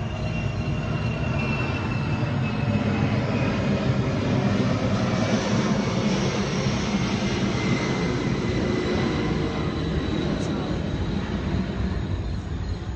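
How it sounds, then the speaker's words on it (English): An airplane flying overhead at night, a loud, continuous broadband roar and rumble that holds steady from start to finish. "Another airplane, I really apologize. It happens all night."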